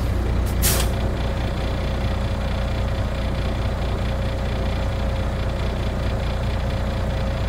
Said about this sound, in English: release air from my tanks until my governor cuts in